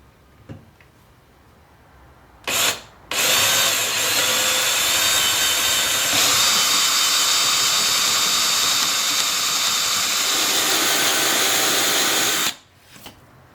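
A power drill whines steadily for about ten seconds after a short burst, loud and close, match-drilling number 40 holes into an RV-7A aircraft fuselage, then stops abruptly.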